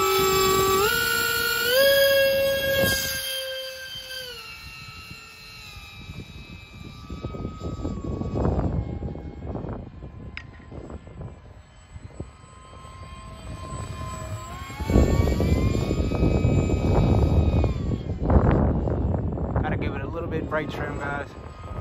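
Modded FT Spear RC plane flying after a hand launch, its motor a steady rising whine with shifting pitch and wind buffeting, near and fairly loud throughout, with voices talking over it.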